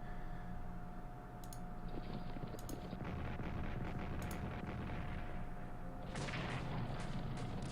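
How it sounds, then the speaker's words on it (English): Artillery fire in the World War I strategy game Strategic Command: World War I: a few sharp distant booms over a steady dense rumble, with brief high clicks and a louder burst near the end. "Let's take another shot at that artillery"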